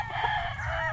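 A rooster crows in one sustained, loud, close call that fills the whole second, with no talk over it.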